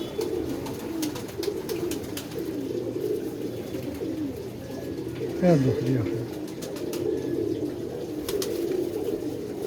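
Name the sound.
pigeons cooing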